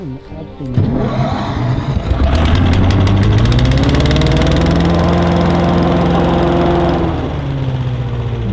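A large hovercraft engine cranks and roars to life, settling into a loud, steady rumbling drone with a rising whine, close by and without speech.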